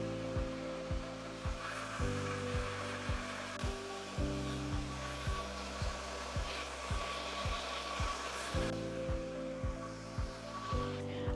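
A hair dryer blows steadily on natural, curly hair with a constant loud whoosh and hum, its tone rising and dropping as the airflow shifts and the dryer moves, and no voices are heard over it.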